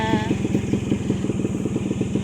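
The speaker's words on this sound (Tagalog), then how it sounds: "dumating yung anak ko, maingay ang kanyang motor" A loud motorcycle engine rumbles up close with a steady, pulsing throb, revving briefly at the start.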